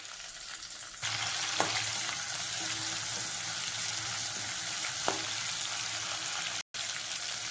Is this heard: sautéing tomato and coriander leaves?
yes